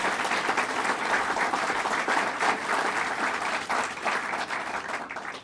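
An audience at a governor's announcement event gives sustained, dense applause, a steady wash of many hands clapping at even loudness throughout, with no talk.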